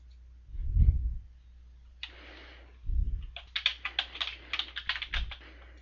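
Rapid keystrokes on a computer keyboard clatter in quick bursts, close and clear, interspersed with a few low thumps, with no one speaking.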